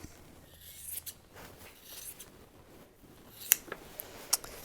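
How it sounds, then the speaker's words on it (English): Scissors snipping through a woven piece to cut it from a weaving loom, a few quiet rustles followed by two or three sharp, close snips in a hushed room. "I'm going to cut that from the loom."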